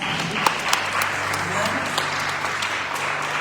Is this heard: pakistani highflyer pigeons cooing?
no